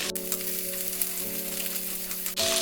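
Jackfruit pieces fry in hot oil in a pan, a steady loud sizzle with a constant tonal hum underneath and a sharp clatter near the end.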